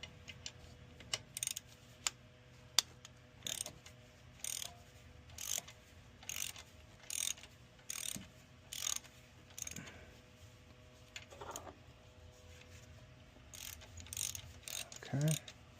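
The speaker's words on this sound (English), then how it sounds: "next we're going to loosen this 12 millimeter bolt, and then loosen this 12 millimeter bolt" Rapid ratchet clicks come in short, regular bursts as a 12 mm bolt is loosened on the alternator of a 2013 Hyundai Veloster, close and fairly quiet with brief pauses between strokes.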